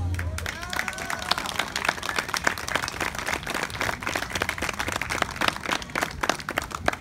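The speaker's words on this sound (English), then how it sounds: "Big applause" Wedding guests applauding at a reception, sustained loud clapping from a crowd with sharp individual claps, voices mixed in under the applause.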